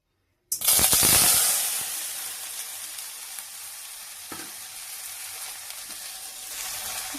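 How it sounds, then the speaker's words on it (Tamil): Okra (vendakkai) frying in hot oil in a kadai gives a loud burst of sizzling as it drops in, then a steady crackling hiss that carries on alone with a soft clink of stirring. "வெண்டைக்காய் நல்லா இந்த மாதிரி நல்லா ஃப்ரை பண்ணுங்க."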